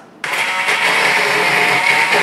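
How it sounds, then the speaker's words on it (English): An immersion blender whirs steadily through hot cooked pumpkin for pumpkin butter, switching on abruptly and holding a loud, even buzzing drone close by with no talk. "we're going to use an immersion blender on it and get it all blended up"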